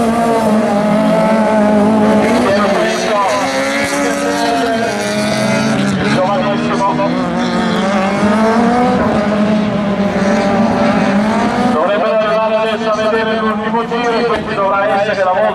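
Super 1600 rallycross cars race in an Italian championship round, engines revving loud and continuous with shifting pitch as they pass and accelerate, while a commentator speaks over them throughout.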